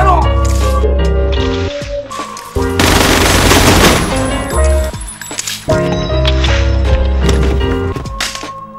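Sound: gunfire in a film scene

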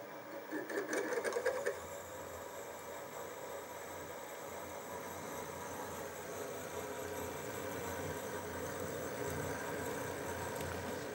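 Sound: reaming a hole with a quarter inch reamer

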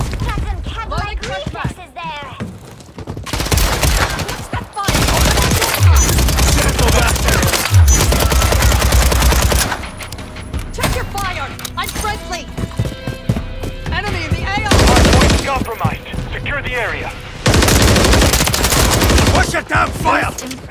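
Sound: gunfire in Call of Duty: Modern Warfare 3 video game

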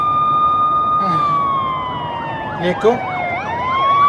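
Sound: police car siren

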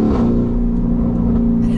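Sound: Mansory Venatus Lamborghini Urus engine revving on gear shift

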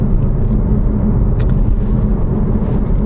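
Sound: Chevrolet Malibu road noise from wheels over road patches

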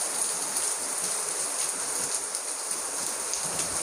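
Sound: heavy rain pouring on a road

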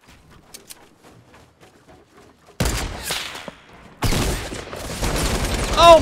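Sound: gunfire in a video game

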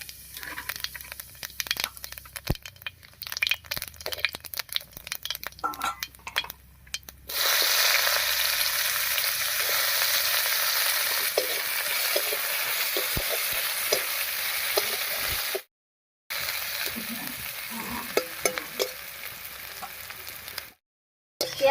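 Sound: cumin and chopped onion frying in fish-frying oil

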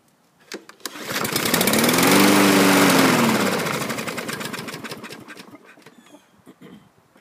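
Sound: Husqvarna LC221A AWD lawn mower engine starting and stalling

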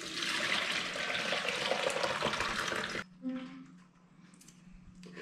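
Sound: red cabbage solution being strained through a colander

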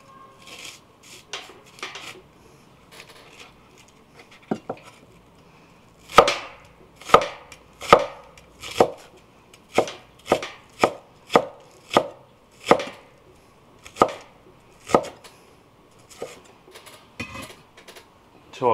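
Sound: knife chopping scallions into thin shreds

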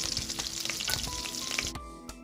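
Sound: butter melting in hot cooking oil

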